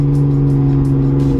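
A car engine blips and hums steadily as it rev-matches a downshift into second gear, a loud, close, sustained drone with faint rhythmic pulses on top.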